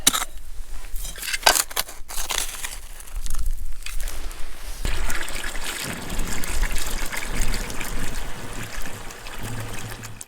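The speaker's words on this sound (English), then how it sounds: "So I'm going to scoop out all this material, collect it in the pan, and pan it" Water and gravel swirled in a gold pan during desert prospecting, scraping and gritty clatter at first, then a continuous close sloshing and trickling swish.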